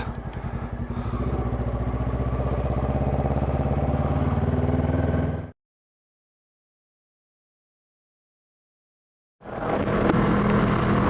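A new motorbike's engine runs steadily as it rides out of a car park, cuts to silence for several seconds, then picks up again at similar loudness.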